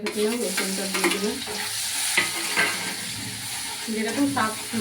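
Crushed garlic is dropped into hot oil in a pan where red chillies were fried, making a steady loud sizzle with continuous stirring and scraping throughout.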